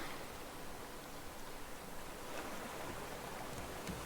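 Ocean waves in the survival video game Raft, a faint, steady wash of surf noise running evenly through the whole stretch with no voices.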